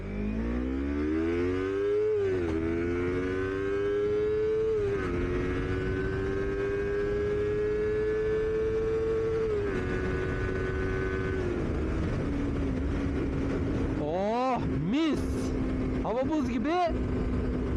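A 250cc motorcycle engine revs hard to around 7000 rpm, its steady whine climbing and dropping between gear shifts, then blipping in several short sharp revs near the end, loud and close throughout.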